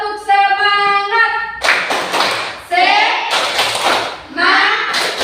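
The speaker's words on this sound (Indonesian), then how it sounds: "ice breaking dulu ya. Tepuk semangat." A classroom of students performs a rhythmic clapping ice-breaker, with loud, sharp bursts of clapping in patterned groups. Children's voices chant between and over the claps.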